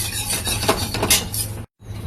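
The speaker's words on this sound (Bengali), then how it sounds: "হালকা হাতে সিমাইটা ঢেলে নেড়ে নেব।" Vermicelli being stirred in ghee in a wok over a low gas flame, with close scraping and clinking of a utensil against the pan, a brief drop to silence near the end, no voices.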